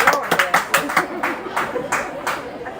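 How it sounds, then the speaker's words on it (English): A baseball crowd at a Marion Swamp Foxes versus Hendersonville Honeycrisps game claps in uneven, loosely rhythmic bursts, with announcer-style talk over the clapping. "Everybody clap your hands."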